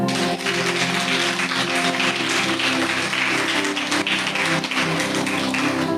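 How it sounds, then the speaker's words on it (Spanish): Sustained applause from a crowd at a Catholic preaching event, steady and loud, with a held musical tone underneath. "Un aplauso al Señor."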